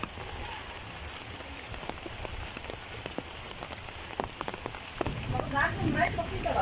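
Steady rain falls on surfaces around a tiger enclosure, a dense patter with scattered sharper drop ticks, getting somewhat heavier and closer near the end, with no one talking.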